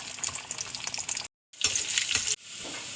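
Onions frying in hot oil in a pan for tempering a dried shark curry, a loud, steady crackling sizzle that cuts out briefly, then resumes and continues more softly, with no talk.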